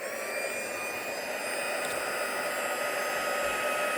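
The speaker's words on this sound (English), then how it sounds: "now I'm going to use the heat tool, and this is a little bit noisy" A heat tool blows steadily to emboss snowflakes on a winter birthday card, a loud, continuous close-up whoosh with a high whine that holds level for the whole stretch, no voices.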